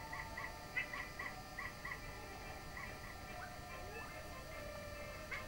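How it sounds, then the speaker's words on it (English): Barking from the video game Yoshi's Story: a run of short, high, electronic yips repeated in quick bursts over a soft steady game background. "it's no good barking at me, Yoshi"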